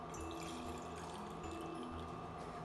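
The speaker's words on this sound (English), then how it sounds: "let's pour this water into the big beaker." Heated water from a stove being poured into a big beaker during a chlorophyll-extraction demo, a steady continuous splashing pour with no talk over it.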